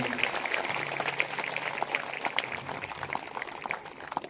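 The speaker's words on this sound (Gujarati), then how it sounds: "એક જોરદાર તાળીઓ અમારા સંગીતકારો માટે" A crowd at a Shiv Katha religious gathering in Valsad applauds the musicians, with dense, steady clapping that fills the whole moment.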